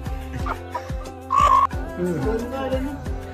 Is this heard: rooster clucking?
yes